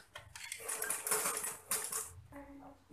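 A sewing machine stitches a skirt in short, rapid bursts of mechanical chatter with brief pauses. The clatter is close but fairly quiet, with faint handling noises underneath.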